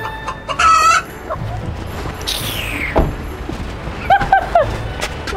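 A chicken clucking and squawking up close, with a few short bursts of clucks and a rising and falling call, over light background noise.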